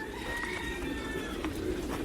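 Pigeons at a poultry and pigeon farm, soft repeated cooing calls close by over a steady low background, with no talk.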